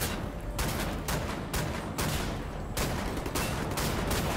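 Shrapnel round gunfire in the video game Wolfenstein The New Order, a loud run of dense, crackling blasts repeating every half second or so, with no talking.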